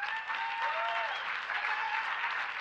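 Audience applause at an announcement event on a decade of action for the SDGs, a moderate steady patter of clapping with some whistles or cheers mixed in, no speech.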